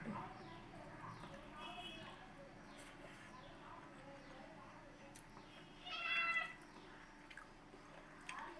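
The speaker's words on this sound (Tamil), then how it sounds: "பூனை கத்துத" A cat meows amid a busy home kitchen scene, the call faint and partly masked by voices and household clatter, with a slightly louder burst of sound near the end.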